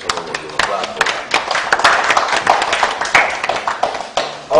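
A scattered round of audience clapping, close and uneven, with overlapping voices talking through it.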